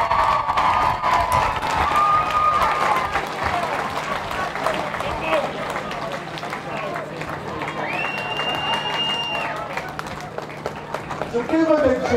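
Crowd applause for Tony McMahon at a sports gathering, dense sustained clapping and cheering from a large audience, loud throughout, with voices mixed in and a brief whistle partway through.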